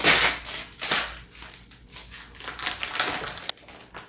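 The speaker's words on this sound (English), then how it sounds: "I guess I'll have to just unwrap all the tape." Packing tape is peeled and unwound from a tough record mailer, making close, crackly, uneven ripping and rustling bursts with no talk.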